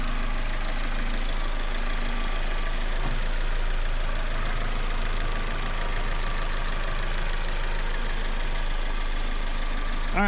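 A Saturn car engine runs at a steady idle after starting, with a constant mid-low rumble that holds level and close throughout.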